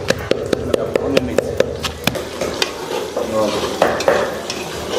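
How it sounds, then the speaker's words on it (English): Tinned tomatoes sizzle and fry in a pot for Senegalese peanut soup, with repeated sharp taps and scrapes of a utensil stirring through them. "We are still frying our tin tomatoes."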